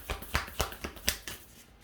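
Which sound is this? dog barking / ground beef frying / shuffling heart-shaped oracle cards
shuffling heart-shaped oracle cards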